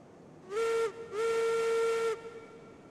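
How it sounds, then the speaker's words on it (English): A steam locomotive whistle sounds in the train game Railroads Online, two loud blasts, a short one followed by a longer sustained one, with a steady hiss underneath. "I had to do it. I hadn't blown the whistle yet."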